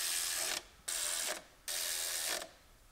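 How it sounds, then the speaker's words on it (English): A ratchet tightening bolts on a power steering pump during an engine swap in a Ram Promaster City, three bursts of rapid clicking separated by short pauses, close and clear. "Put our bolts through the pump. Tighten them down."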